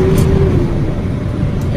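A 2006 Chevrolet Silverado 2500 engine drones steadily and loudly as the truck accelerates through its gears, with a rising tone heard from inside the cab while someone talks.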